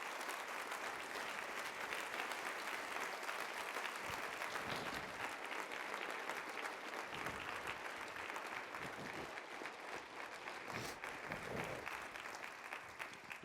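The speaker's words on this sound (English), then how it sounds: "Let us greet them with a warm round of applause." An audience at a fall convocation gives a steady round of applause for new faculty members, faint and sustained clapping from a crowd with no voices over it.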